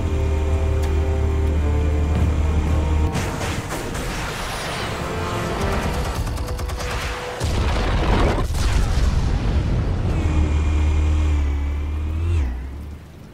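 Explosives detonate in Batman: The Telltale Series, with heavy booming blasts over a loud, rumbling roar like a revving engine, separated by short crackling bursts, with no talking.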